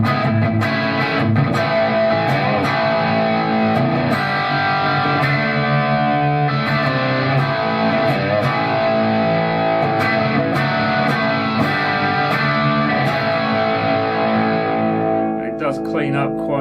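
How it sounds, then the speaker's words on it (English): An electric guitar through a Tonex pedal running a Marshall JCM 800 amp model plays distorted rhythm chords, thick and sustained, ringing out to a quick stop near the end. "if I go on to the patch B of the Tonex, this is a Marshall JCM 800."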